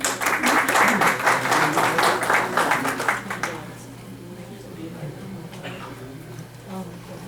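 Audience applause at a poetry evening welcoming a woman poet to recite, loud sustained clapping for about three and a half seconds before fading to a quiet murmuring room.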